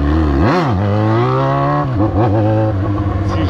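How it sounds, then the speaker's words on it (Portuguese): Yamaha XJ motorcycle engine revving hard to the rev limiter, pitch sweeping up and down in loud close bursts, then bouncing off the limiter with a choppy stutter near the end. "É a coisa mais gostosa que tem é cortar giro na XJ."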